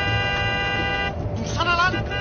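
A car horn honks in sustained blasts amid traffic noise and voices, the tone steady and fairly loud.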